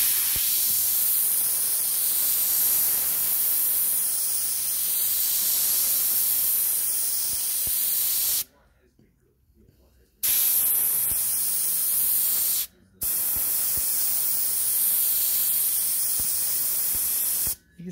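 Compressed-air spray gun laying down lacquer at high pressure, a loud steady hiss in long continuous bursts broken by two short pauses, close and without talk.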